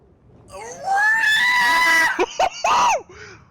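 A loud, piercing scream with wavering pitch lasting about a second and a half, followed by a few short choppy yelps and cries, close and alone.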